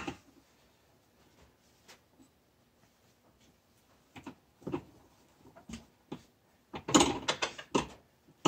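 A socket wrench works the secondary spring nut on a Yamaha Wolverine X2/X4 with scattered metallic clicks and ratcheting, growing busier and louder toward the end, up close.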